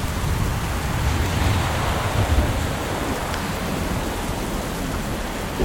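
Heavy rain pours during a storm in Lisbon, Portugal, a dense steady hiss of drops drumming on surfaces, loud and continuous with no voices.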